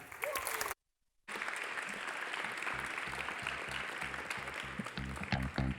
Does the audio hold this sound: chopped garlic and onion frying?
no